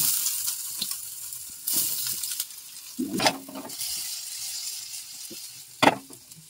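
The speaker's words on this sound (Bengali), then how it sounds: "সাদা তেল দিয়ে সোয়াবিন আর আলুটাকে একটু ভেজে নেব খিচুড়িতে দেওয়ার জন্য।" Soybean chunks and potato cubes frying in white oil in a pan for moong dal khichuri, with steady sizzling broken by stirring scrapes and a few sharp bursts, close and moderately loud.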